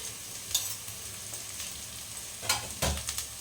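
Ground cumin, turmeric and coriander fry and get stirred in a pan for an egg dish, with a steady soft sizzle and a few sharper scraping stirs near the end, no voices.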